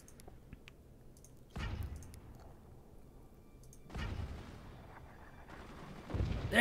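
Mortars firing in the video game Forts, three separate booming blasts spaced a couple of seconds apart, each a sudden loud thump that trails off, over a quiet background with no talk.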